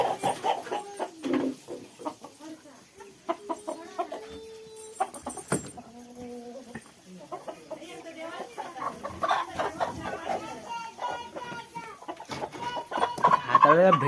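Village chickens cluck and squawk close by in a busy, uneven stream, with a person talking at times among the birds.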